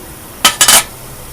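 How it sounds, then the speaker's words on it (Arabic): A ladle scrapes and clinks against serving plates as stuffed chicken with kishk is scooped out, giving three quick, close metallic knocks in an otherwise quiet kitchen. "نغرفه بقى في الاطباق ونحط عليه ايه البصل من فوق الوش"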